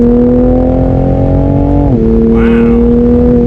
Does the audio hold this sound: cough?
no